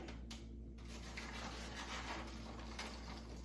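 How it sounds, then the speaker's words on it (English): A big spatula turns harvest mix on a hot baking sheet in the oven, giving soft, continuous scraping and rubbing that stays faint and close throughout. "I just got a big spatula and you just kind of just turn it."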